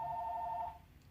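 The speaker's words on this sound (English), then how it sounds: "Sorry, that was my phone." A phone rings with a steady electronic tone lasting under a second, fairly close, then cuts off into quiet room noise.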